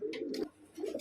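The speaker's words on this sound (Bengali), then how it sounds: "দর্শক বন্ধু দেখতে পাচ্ছি এখানে আরো একজন কবুতর আছে" A pigeon coos close by in two or three soft, throaty bursts with a short gap between them, and no other sound competes.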